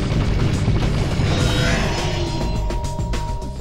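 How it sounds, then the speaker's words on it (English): Dense, continuous rumbling booms and explosive bursts of gunfire fill a Ratchet: Deadlocked battle, loud and unbroken throughout with no speech. "I could hear gunfire,"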